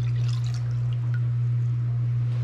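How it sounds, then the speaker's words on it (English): Quart of cold water poured into a container for a trout brine, a steady trickling and splashing pour heard close up over a constant low electrical hum, without talk. "Start off by adding 1 quart of cold water,"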